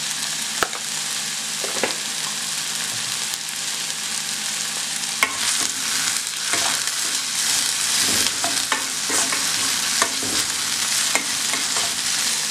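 Onions frying in a pan with a little salt for potato masala, a loud, steady close-up sizzle with periodic scraping stirs and light taps of a spatula, no voices.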